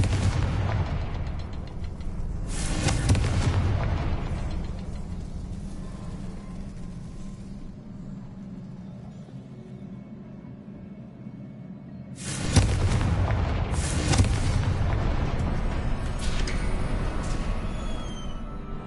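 Confringo fire spell blasts in the Hogwarts Legacy video game: heavy booming bursts with crackling, one loud explosion near the start and another around the middle, each trailing off into rumble.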